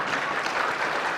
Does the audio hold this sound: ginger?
no